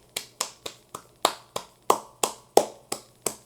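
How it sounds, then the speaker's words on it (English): Hand clapping: ten sharp, close claps spaced in a slow, fairly even rhythm, alone without talk. "Give it up a clap. Everyone clap."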